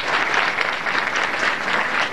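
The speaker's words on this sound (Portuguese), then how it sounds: "Nosso abraço e salva de palmas também." Loud, sustained applause from a crowd at a graduation ceremony, dense clapping that holds steady the whole time.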